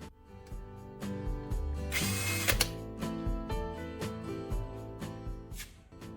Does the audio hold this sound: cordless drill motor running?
yes